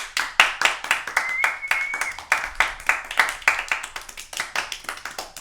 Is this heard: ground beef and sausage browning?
no